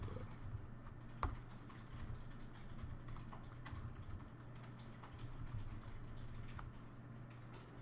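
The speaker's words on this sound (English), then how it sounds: "So they're typing a number into the keyboard" Faint, quick clicking of computer keyboard keys tapping in a scattered rhythm over a low steady hum, with no voices.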